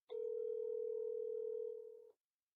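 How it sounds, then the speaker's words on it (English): A single long telephone ringback tone on a call sounds clean and steady for about two seconds, then cuts off into silence. "The phone is ringing."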